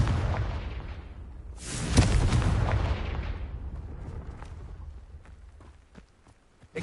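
A Confringo fire-blast spell cast in Hogwarts Legacy, a loud booming explosion with a long crackling roar that swells and fades over several seconds, followed by faint footsteps and small clicks.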